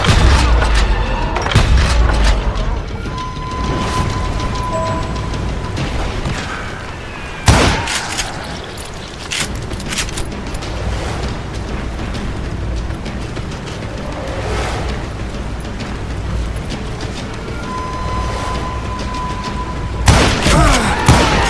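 Gunfire and booming shots from the Western shooter Call of Juarez Gunslinger, loud bursts and thuds over a constant rumbling game soundscape, with a sharp heavy blast near the middle and another cluster at the end.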